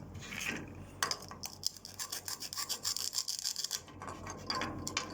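A knife scrapes kernels off an ear of corn in a home kitchen, making a quick, rhythmic rasping and scraping that comes in short strokes, close and fairly quiet.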